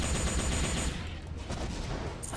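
Rapid automatic weapon fire from a mech in the video game M.A.S.S. Builder, a dense continuous burst of gunshots for most of the clip with a steady game soundtrack underneath.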